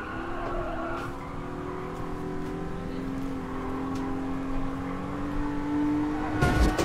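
A car engine revs and holds a rising, steady whine in a racing video game, with faint tire squeal and a brief bump near the end; the game engine note stays prominent throughout.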